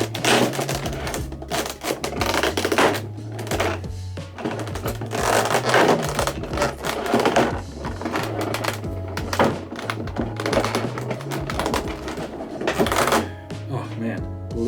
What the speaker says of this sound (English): Oh man, blister boxes are absolute pain to unbox sometimes.